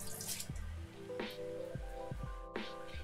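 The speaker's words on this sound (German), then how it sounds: "Oh, wir müssen mal unsere Petersilie ein bisschen Wasser geben hier." Water poured onto a potted parsley plant in a house, heard as a few close, quiet trickles and splashes with scattered drips settling into the soil.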